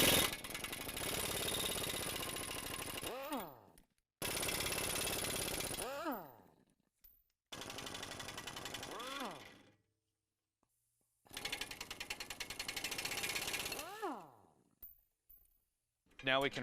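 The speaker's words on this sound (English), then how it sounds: "taking off the factory nuts off of the factory U-bolts with a 21mm socket" A ratchet with a 21mm socket backs off factory U-bolt nuts on a 2019 Chevy Silverado 1500, coming in four close, loud bursts of rapid mechanical clicking separated by short silent pauses.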